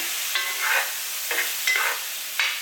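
Frozen corn kernels fry over high heat in a pan, giving a steady soft sizzle broken by a few scraping stirs, close and fairly loud with no voices.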